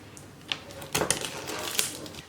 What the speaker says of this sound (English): I'm going to take the board, just gonna unwrap.